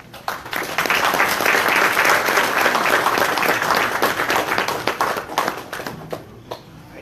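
An audience at an awards luncheon for veterans' service bursts into loud, sustained applause welcoming a speaker, then it thins out into scattered claps and fades near the end.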